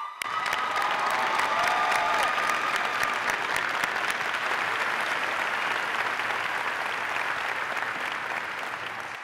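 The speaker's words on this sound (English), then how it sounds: "Let's give him a round of applause" Applause for a police recruit at a graduation ceremony: a large audience claps continuously and evenly for about nine seconds, with a few scattered cheers mixed in and a slight fade at the close.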